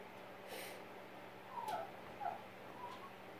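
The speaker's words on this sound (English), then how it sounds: "that kitty is just hungry" A hungry cat gives a few faint, short meows, spaced apart, against a quiet background hum.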